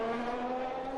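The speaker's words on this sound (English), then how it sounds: "Francis decided to do the donuts now, not after the race ends." A race car in a league race at a Spanish round of a racing game spins donuts, its engine whining steadily and tires squealing in a loud, close, continuous sustained tone.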